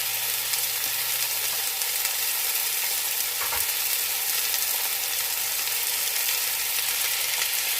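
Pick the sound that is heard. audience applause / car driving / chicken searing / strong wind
chicken searing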